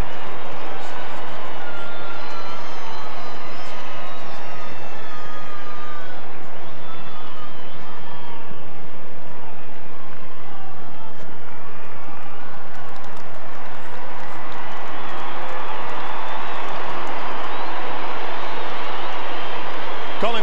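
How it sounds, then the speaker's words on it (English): A large crowd of around 50,000 at the MCG roars and cheers steadily as the Collingwood side runs out onto the ground for a 1997 Australian football match against Geelong, a loud, sustained wash of noise with commentators talking over it. "Collingwood side coming out onto the ground here at the MCG in front of a very good crowd"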